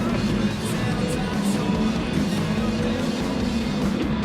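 Race car engine roaring steadily during wheel-to-wheel racing in Gran Turismo Sport at Brands Hatch, a loud continuous drone with other cars close by, with faint voices underneath.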